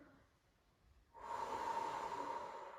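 A single deep inhalation through the nose during a breathing and ab workout, close and noisy, starting after a moment of quiet and lasting over a second.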